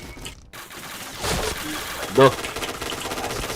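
Video game gunfire cracks out in quick bursts during play, with one sharper shot standing out midway. A brief vocal grunt comes over the clip.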